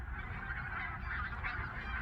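Many gulls call at once near an octopus mudflat in a Seosan seaside village at dawn, a thick, unbroken clamor of cries at an even loudness throughout.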